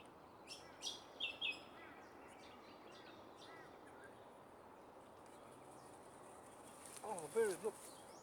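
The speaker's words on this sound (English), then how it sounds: "Oh, bird, look, it's that bird coming back." A bird calls beside a river at sunrise: a few short chirps early on and a louder burst of calls near the end, set against a steady outdoor background.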